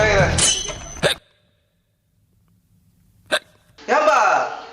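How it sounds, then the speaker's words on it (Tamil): Two sharp, isolated hiccups, the first near the start amid brief vocal sounds and the second after a silent gap, followed by a burst of comic vocal noise during a Tamil stand-up comedy routine. "பின்னாடி ஏதோ விக்கல் சவுண்ட் கேக்குது."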